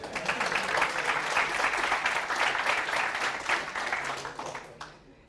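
An audience applauds for Tino Gomes at a web design talk. The clapping is dense and steady throughout, then fades out just before the end.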